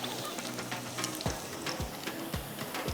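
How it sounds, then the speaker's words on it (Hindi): Garlic frying in a pan, a soft continuous sizzle with repeated low knocks and scrapes of stirring at a steady pace, fairly faint and with no talking. "यहाँ पर अब हम इसको इस तरह से फ्राई करेंगे"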